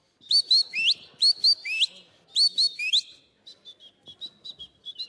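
A man whistles an imitation of a sandpiper's call at a birdsong contest in the Baie de Somme, giving bursts of rising, warbling notes in three quick groups, followed by a string of shorter chirps, clear and close.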